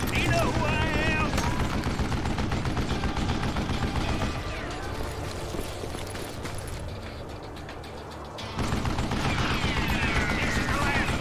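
Revolver gunfire in the video game Call of Juarez: Gunslinger, sharp repeated shots mixed with mechanical clicks and in-game music and effects, with a stretch of quieter action before the shooting resumes loudly.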